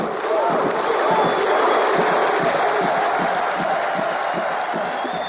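Icelandic football fans perform the Viking clap in a stadium: a big crowd roars continuously while rhythmic clapping and shouts pulse through the noise at a steady beat.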